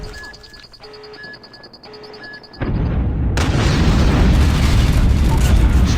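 A nuke detonating in the video game Call of Duty Mobile, a sudden loud roaring blast that swells into a sustained rumble after quieter game beeps and tones.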